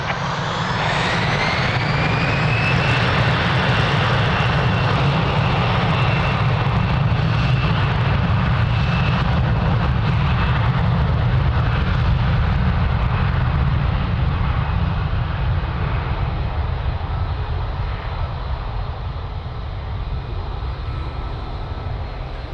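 An airliner takes off from runway 02 at Lisbon Airport, its engines a loud, sustained roar with a rising whine that stays steady and near for the whole stretch, with no voices.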